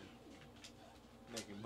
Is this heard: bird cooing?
yes